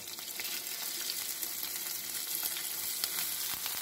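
Cuttlefish and shrimp drop into hot olive oil and fry for spaghetti with seafood, a loud, continuous close-up sizzle with crackling pops throughout.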